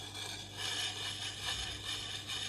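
A bill hook blade being sharpened with steady back-and-forth rasping strokes, a continuous close scraping hiss with gentle rhythmic swells and no talking.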